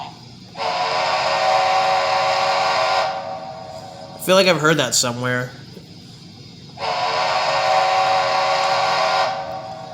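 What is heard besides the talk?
Great Northern 5 chime train whistle, HO-scale model sound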